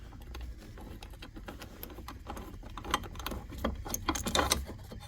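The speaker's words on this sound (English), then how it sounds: "socket to remove this bolt here" An 8mm socket wrench works a bolt loose on the fuel pump of a 2000 Yamaha golf cart, giving a string of quick, close metallic ratcheting clicks and small scrapes that grow busier and louder toward the end, with no voices.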